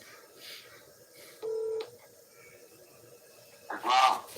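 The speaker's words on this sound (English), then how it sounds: "I'm calling Brother Nuff right now." Telephone keypad dialing tones placing a call, a steady beep burst near the middle, with faint background noise and a short louder rise near the end.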